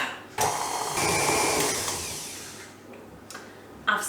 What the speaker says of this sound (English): butter and sugar, creaming in the mixer